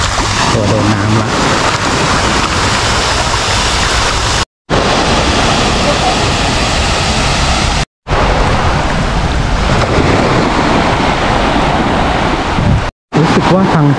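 Artificial sea waves roll through the wave pool at Siam Amazing Park water park, a continuous loud wash of surf and splashing water, briefly cut out by a few short silent gaps.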